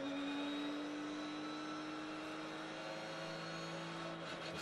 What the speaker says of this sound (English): Distinctive Porsche engine sound.